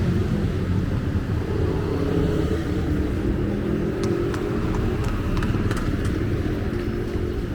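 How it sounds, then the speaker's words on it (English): Street traffic in Makati on a Sunday morning, a steady rumble of passing cars and motorcycles with engine drone throughout, plus a few faint sharp clicks later on. "we're out on the noisy streets of Makati"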